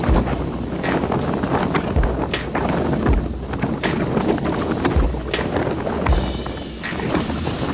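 Strong, steady wind roars across the microphone during a group road ride on the return leg near Capitol Hill Drive, with gusty buffeting and sharp low thumps that recur throughout.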